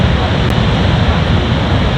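Rough sea waves break on the coast at Seaham, East Durham, a steady loud wash of surf and wind noise with no pause, close and continuous.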